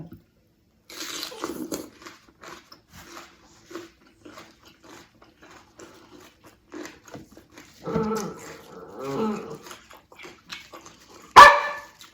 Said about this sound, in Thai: เสียงตัวเล็กเห่า